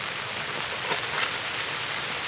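Steady rain falls outdoors on a rainy day while quail parmesan is being cooked, a dense, even hiss with a few faint taps rising above it and no talk.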